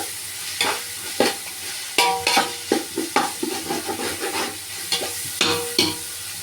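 Tomatoes frying and being stirred in a pan for biryani, with a steady sizzle under repeated sharp scraping strokes of a spoon against the pan, close and fairly loud.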